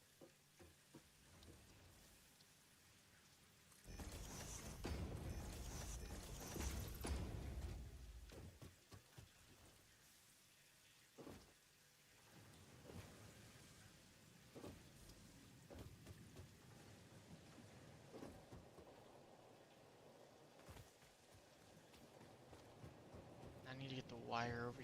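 Rain falls in the factory-building video game Satisfactory, a steady hissing patter that swells louder for a few seconds and runs faintly beneath someone talking throughout.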